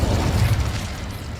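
An Incendio fire spell is cast in Hogwarts Legacy, giving a brief low whooshing burst of flame that swells and fades quickly, heard alone and at close range.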